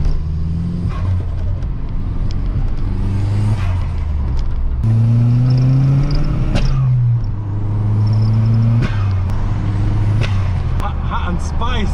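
Modified new hot hatch engine revving hard on a street cruise, its note climbing and dropping in repeated surges through the gears under a steady road rumble, close and loud, with voices faintly in the cabin.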